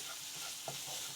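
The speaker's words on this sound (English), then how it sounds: "A little bit of garlic. A little bit of salt. And then just continue to saute" Meat sautéing with garlic and salt in a pan gives a soft, close sizzle with a brief scrape of stirring partway through.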